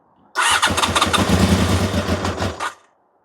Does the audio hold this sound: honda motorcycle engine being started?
yes